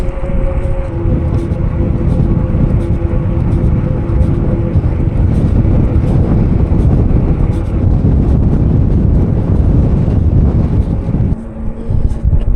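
Steady wind blowing across open Omani desert, a continuous broad rushing roar with buffeting against the microphone, loud and unbroken throughout with no voices.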